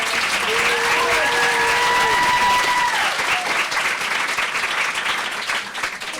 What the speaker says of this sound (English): can I just get a round of applause for the amazing Teen Lounge team that did all of the work.